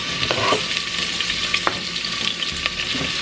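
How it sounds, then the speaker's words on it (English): Sweet onion and red pepper sauteing in olive oil in a pan, a close, steady crackling sizzle with a few sharper pops and light stirring scrapes, and no talking. "I'm gonna let this saute a little"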